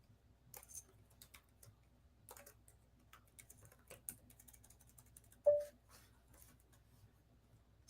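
Scattered keystrokes on a PC computer keyboard, quiet and close, with irregular bursts of typing and one sharper, louder key click partway through.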